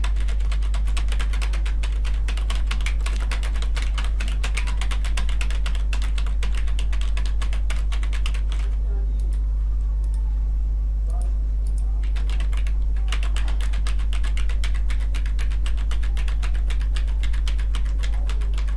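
Steady run of computer keyboard typing as text is entered into a Word document, with a short pause partway through, over a constant low electrical hum; no talking.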